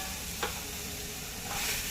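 Red chili powder, cumin powder and spices sizzle steadily in a hot oiled pan, with a soft scrape of stirring partway through, close and continuous for a brief moment.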